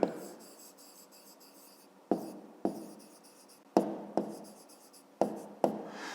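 Pen writing an answer by hand on paper for a fifth-grade math exercise, with repeated scratchy strokes and sharp taps as each word begins, close and quiet with no voices.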